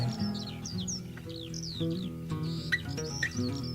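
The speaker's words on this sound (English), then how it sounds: "In the sky a bird was heard to cry." Bird chirps and calls with rising and falling whistles ring out over steady pop music in an atmospheric scene set at White Lake, New York, in 1969, several short calls spread across the clip, fairly clear but partly blended with the music.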